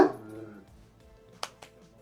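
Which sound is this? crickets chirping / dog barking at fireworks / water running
dog barking at fireworks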